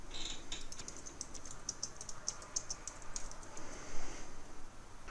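Quick, light clicking of computer keyboard keys as a short note is typed, faint and close with an irregular rhythm.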